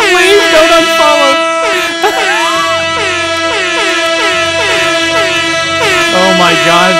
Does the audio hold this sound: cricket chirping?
no